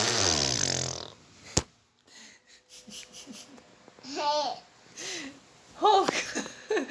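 A young child imitates snoring with a few short, rasping and wavering vocal snorts, prompted by an adult voice speaking nearby between the attempts.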